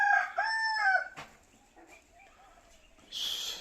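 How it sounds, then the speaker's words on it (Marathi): Breeder hens in a poultry shed give a few loud, drawn-out calls close by, followed by quieter clucking and then a short hiss of background noise. "हे आपले कोंबड्या आहेत."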